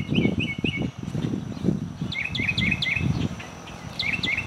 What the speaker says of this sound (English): there are birds up in this tree trying to outsing me